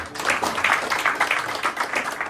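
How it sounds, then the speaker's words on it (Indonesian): Congregation clapping together at a Sunday church service, a steady stream of hand claps with a few rhythmic bursts, fairly close and moderately loud, with no talking over it. "Tepuk tangan dulu dong untuk Tuhan."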